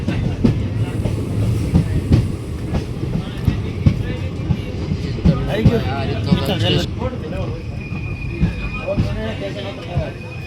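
A passenger train on the Lathi to Junagadh line rolls along with a continuous rumble and rhythmic clickety-clack of wheels on rails, heard from inside the car, with people talking intermittently over it.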